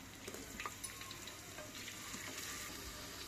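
Mustard seeds, cumin, fenugreek, coarsely crushed garlic and ginger fry in a few spoons of hot oil for Telangana-style ulavacharu, giving a steady close sizzle with small crackles and pops throughout.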